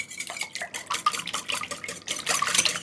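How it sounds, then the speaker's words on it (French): A utensil stirring a wet mixture of squash, eggs, cream and milk in a bowl, with quick repeated clinks and sloshing scrapes close by, rhythmic and steady throughout. "Et je viens mélanger le tout"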